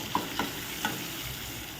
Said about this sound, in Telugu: కొంచెం ఉండే నైట్ అన్నం, అదైతే పోపు వేస్తున్నాను.